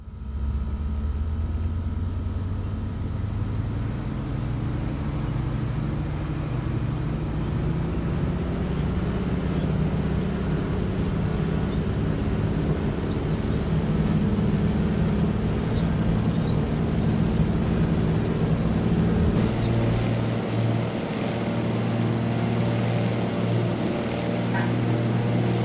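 A Hot Rod Beaver floatplane's radial engine roars steadily during a takeoff run in the FS2020 flight simulator near Sydney, a continuous loud drone that rises slightly in pitch and holds for the whole stretch, with no talk over it.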